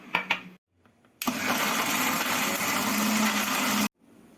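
A kitchen mixer grinder whirs loudly and steadily for about two and a half seconds while grinding shallots, green chilli, salt and salted mango into chutney. Brief knocks come before it and quiet follows.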